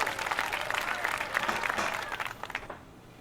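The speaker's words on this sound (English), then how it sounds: "Cheer for mighty Ronstock" A crowd in Neverwinter Nights 2 breaks into applause and cheering that rises, holds for a few seconds, then thins out and stops.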